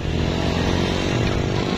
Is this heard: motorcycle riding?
yes